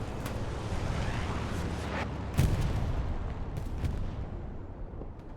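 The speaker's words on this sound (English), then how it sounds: "explosion there on the side, was too far away" A distant explosion in the WWII shooter Hell Let Loose, during a tournament battle on Carentan, gives a sharp boom around the middle. It sits over a constant low rumble of battlefield noise, with a few fainter cracks of gunfire scattered around it.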